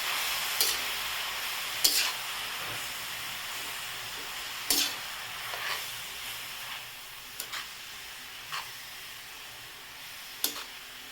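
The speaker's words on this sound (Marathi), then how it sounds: "याला याला असंच दहा मिनिट परतून घ्यायचं" Grated carrot being stir-fried in a pan for carrot halwa, a soft continuous sizzle and hiss broken by sharp scraping strokes of a spatula every second or two, close and without talking.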